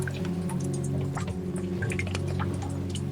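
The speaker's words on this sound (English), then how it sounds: "pour the water back into the sink basin. A gentle sound of liquid meeting wood-lined metal." Water poured back into a wood-lined metal sink basin in a tea room on a rainy night makes soft scattered drips and trickles over a low, steady background hum.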